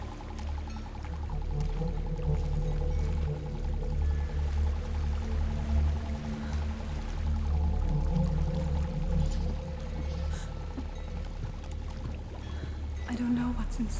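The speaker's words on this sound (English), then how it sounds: "There's a waterfall." A waterfall roars steadily in Hellblade: Senua's Sacrifice, a continuous rushing wash of falling water that stays loud and even throughout, with faint voices briefly heard over it.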